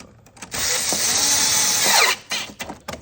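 A power driver whirs loudly for about a second and a half, tightening an 8 mm exhaust clamp on a 2013 Chevrolet Equinox, then stops with a few short clicks after.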